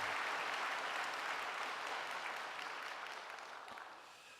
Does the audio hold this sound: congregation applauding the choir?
yes